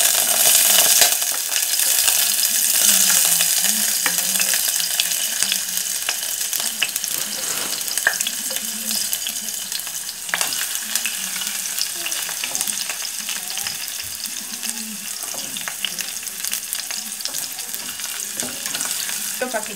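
Onion and garlic frying in a pan before okra goes in, a steady broad sizzle with scattered stirring scrapes and some watery clatter running throughout, fairly close and with no voices.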